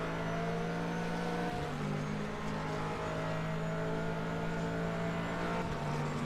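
Corvette race car engine in a sports car racing video game at Mid-Ohio, a steady loud drone with sustained harmonic whine running down the back straight, no talk.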